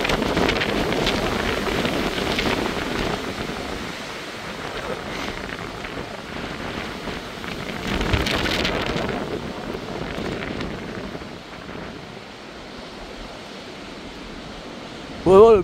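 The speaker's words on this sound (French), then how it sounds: "Vraiment le bruit de vent qui est à côté." Strong storm wind from Storm Herminia roars steadily and buffets the microphone with dense, rushing noise that swells and eases throughout, close and loud, with a brief voice at the very end.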